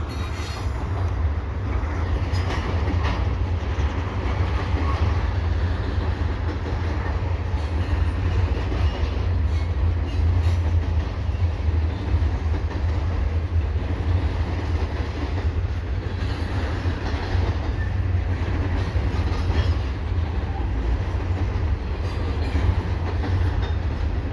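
A heavy CPKC freight train with double stacks rumbles past continuously and close, with steady wheel noise, clattering cars and occasional metallic squeal, no voices.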